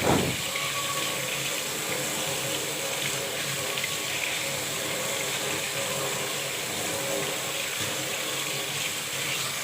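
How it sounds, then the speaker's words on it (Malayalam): Guava rinsed under a running kitchen tap, water pouring steadily and fairly loudly into the sink for the whole stretch. "ആദ്യം തന്നെ നമ്മളത് നന്നായിട്ടൊന്ന് കഴുകി കൊടുക്കുകയാണ്."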